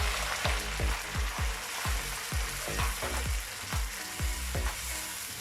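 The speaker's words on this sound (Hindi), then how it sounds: "अब इसमें दूध डालेंगे।" Milk goes into golden-brown walnuts frying in a pan, producing a dense sizzle with a regular series of stirring strokes, close and fairly loud with no talking.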